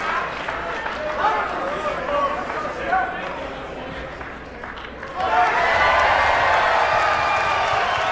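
Commentary over a quiet pool hall at a Mosconi Cup 2017 9-ball match gives way to a sudden, sustained burst of crowd applause and cheering that stays loud to the end.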